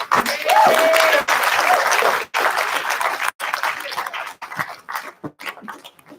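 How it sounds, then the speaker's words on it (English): Audience applause at an inclusive growth forum in the Drakensberg, steady and loud for about two seconds, then thinning into scattered claps and fading by the end. "Please give them another round of applause."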